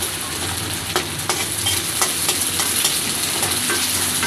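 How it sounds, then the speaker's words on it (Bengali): Onion and dried chili fry in a pan with a steady broadband sizzle, broken by a series of short scraping stirs roughly every half second; close and fairly loud, with no voices. "হালকা একটু যখন ভাজা ভাজা হয়ে যাবে"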